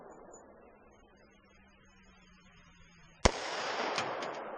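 A Glock 40 MOS 10mm pistol fires a single loud, sharp report at an outdoor 100-yard range, breaking a quiet stretch and trailing into a sustained rumble of echo and wind.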